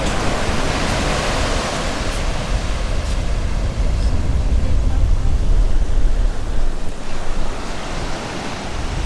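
Waves break continuously on a beach at Israelite Bay, Western Australia, under steady wind, a loud broadband roar with heavy low wind rumble on the microphone and no voices.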